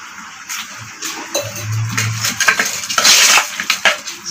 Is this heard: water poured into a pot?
yes